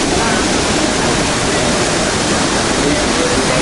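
Steady, loud broadband rush of falling water from a waterfall in Cape York with clear water, on an overcast, windy day, constant and close with no pauses.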